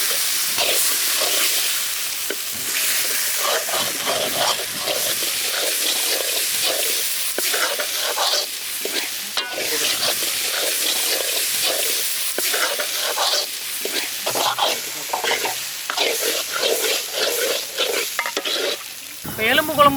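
A Tamil masala paste with ground coconut, cashews and poppy seeds fries loudly in a pan for mutton bone kulambu, hissing and crackling continuously. Repeated stirring scrapes run through the sizzle from start to finish.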